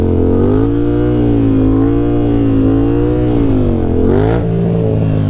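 A Yamaha FZ-07 motorcycle with a stunt build pulls away in first gear. Its engine is loud and close, and the steady pitch rises and dips as the throttle is rolled on. No one speaks.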